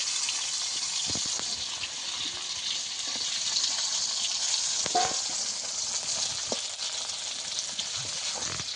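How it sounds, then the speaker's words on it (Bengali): Okra pieces fry in hot oil with a steady, close crackling sizzle throughout and scattered sharper pops and spits over the continuous hiss. "এবার একে একে ঢেঁড়সগুলো যে মাখিয়ে রেখেছিলাম সেই ঢেঁড়সগুলো ছেড়ে দেবো তেলের মধ্যে"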